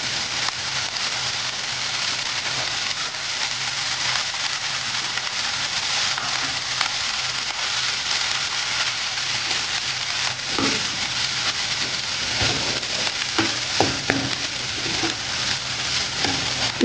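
Boiled, smashed potato with green peas fries in a hot pan, giving a loud, continuous, even sizzle throughout, with a few sharper clicks and scrapes near the end.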